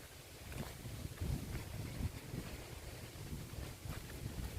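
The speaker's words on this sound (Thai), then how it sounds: "ลมแห้งแห้งพี่น้องเอ้ยลมหนาวแล้วเนาะ" Dry, cold wind blows steadily across an open farm field where melons are grown, giving a continuous rumbling gust noise against the microphone with no voices.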